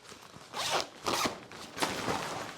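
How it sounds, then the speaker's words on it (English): Fabric bag with two zippers being zipped shut over a table, three quick rasping pulls in a row, close and fairly loud with no talking. "So you put them in the bag. Which has 2 zippers."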